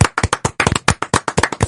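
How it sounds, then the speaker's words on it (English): Audience applause of about a dozen sharp, irregular hand claps in quick succession, loud and close, with no voices over it. "Secondly, you gotta stop clapping."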